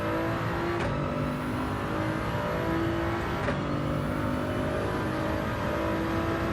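Race car engine in Gran Turismo 7 during a balance-of-performance test, droning loudly and steadily at high revs with two brief gear-shift dips, constant and close throughout with no voices.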